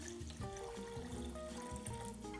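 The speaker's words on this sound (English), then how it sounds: "We add a generous amount of water to cover everything." Water poured into a pot of salted meat cuts for a Brazilian black bean and pork stew, a quiet continuous splashing trickle with bubbly gurgles throughout, heard alone.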